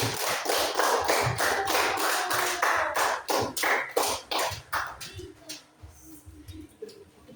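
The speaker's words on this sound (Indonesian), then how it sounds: "tepuk tangan untuk kelompok 1" A classroom group claps after finishing a presentation, a dense run of sharp handclaps that thins out into a few scattered claps before fading.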